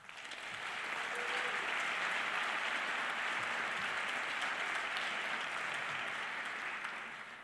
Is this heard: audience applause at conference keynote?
yes